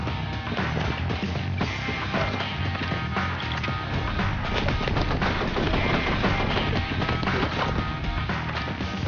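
Rapid gunfire and impact hits from the Blue Estate shooter game fill the clip at a steady, loud, dense level, with sustained bursts and no clear pauses.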